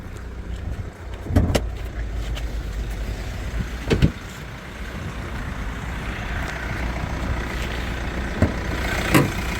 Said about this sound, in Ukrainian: Завівся автомобіль.